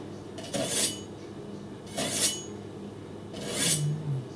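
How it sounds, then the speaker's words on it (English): A Cutco Ultimate knife pulled lightly through a #80 knife sharpener, giving three separate short raspy scraping strokes spaced about one and a half seconds apart, close and fairly quiet. "I'm just lightly running it through the sharpener."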